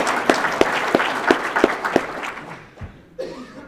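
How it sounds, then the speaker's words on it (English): An audience at an economic development event applauds, the clapping rising in bursts with a few chuckles mixed in, then thinning out before a brief murmur at the end. "And Paul Ryan deserves a round of applause for that"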